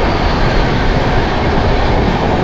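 The Sealdah Puri Duronto Express runs at speed, a loud continuous rumble and rattle of rail cars heard from inside the train, steady throughout with no voices.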